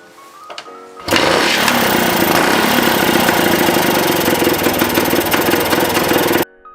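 A 1968 Sears Allstate SR250 motorcycle engine fires up and runs at a loud, steady, rough mid-pitched idle with a slight knocking rattle, close by, then cuts off abruptly.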